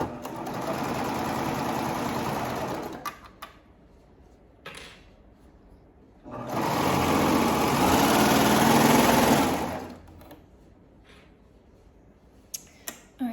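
A sewing machine stitches a fabric seam on a baby bummies garment, running in two steady bursts of about three seconds each with quiet handling of the fabric between them.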